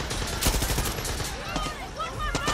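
Rapid gunfire rattles in Far Cry 6 as an enemy is shot, a dense string of close, sharp shots with a few louder cracks over a busy game background.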